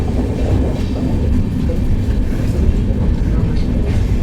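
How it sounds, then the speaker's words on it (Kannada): A train bound for Mysore rolls through, a loud, continuous rumble that stays close and steady across the whole stretch. "ಬಂತು ನೋಡಿ ಟ್ರೈನ್."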